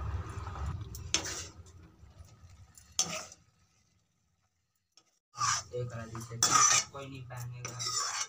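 Cooked ridge gourd is scraped from a wok onto a plate, with metal utensil clinks and scraping in bursts around a short silent gap, while a person talks nearby.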